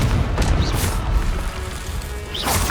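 A Confringo blasting spell goes off in the Hogwarts Legacy video game, producing loud booming crashes with sharp impacts near the start and again near the end amid noisy combat sounds.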